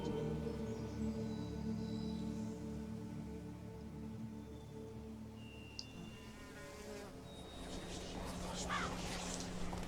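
Crows caw in the game Witcher 3: Blood and Wine, a few harsh calls over a constant buzzing, insect-like ambience.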